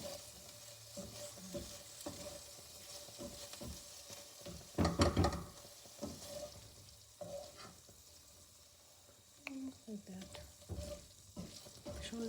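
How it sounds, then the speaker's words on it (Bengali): Okra frying in a pan, a soft steady sizzle with intermittent stirring scrapes and clatter, brief louder bursts, heard close up and fairly quiet. "এখন ঢ্যাঁড়স অলমোস্ট ভাজা হয়ে গেছে"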